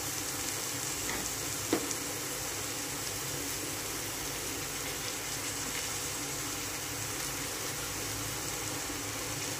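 Cowpea pods sautéing in hot oil for a vegetable bhaji, a steady broadband sizzle running the whole time with one brief clink near the start, no voices.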